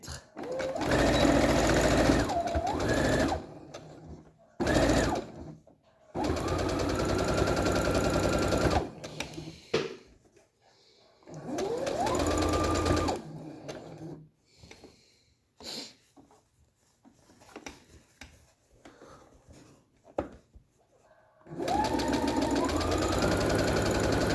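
A sewing machine stitches close to the edge of a fabric protective face mask in repeated runs of steady, loud whirring, separated by short pauses and quiet gaps, with no talk over the stitching.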